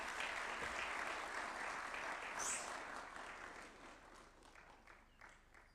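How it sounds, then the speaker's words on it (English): Sustained applause from a large audience at a Kenyan national vision launch, loud at first and gradually fading toward the end, with no voices over it. "Another round of applause for Professor Michael Chege."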